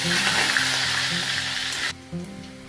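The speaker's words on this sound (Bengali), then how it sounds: "আলুগুলো আগে ভেজে নেব, ওই তেলে আলুগুলো ভেজে নেব" Loud, steady sizzling of potatoes frying in hot oil, with a few soft stirring sounds, cutting off abruptly near the end.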